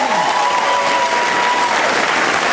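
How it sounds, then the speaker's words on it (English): Studio audience on a comedy music panel show applauds loudly and continuously for a couple of seconds, a thick, close wash of clapping with a faint musical tone sliding underneath. "Yes, applause."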